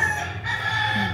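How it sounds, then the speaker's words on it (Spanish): Chickens cluck and call close by in a short, continuous stretch of barnyard noise. "Ahí tengo las gallinas"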